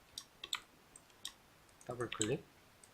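A computer mouse clicks during work in 3D modeling software, with a few faint, sharp clicks in a quiet room before a brief spoken phrase.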